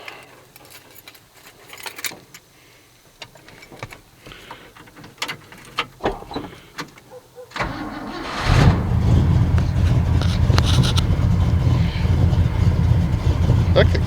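A Ford 390 FE V8 engine cold-starts after a few quiet clicks and handling noises, then catches and settles into a loud, steady, rumbling idle close by.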